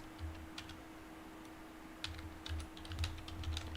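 Quiet computer keyboard typing while HTML code is entered, scattered keystroke clicks in two bursts with a pause between, close and faint over a steady low electrical hum.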